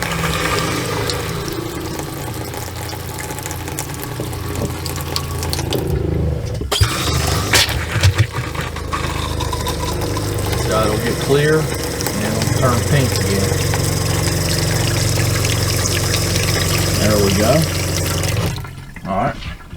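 Water runs from a kitchen sink faucet during winterizing of a house, a continuous rushing flow with a low mechanical hum and a few clunks, while voices speak intermittently in the background.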